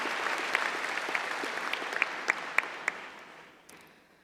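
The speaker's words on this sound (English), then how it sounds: "So a huge second round of applause for them." Applause from a high school graduation audience at Penfield High School, a soft wash of clapping with a few sharp nearby claps, tapering off toward the end.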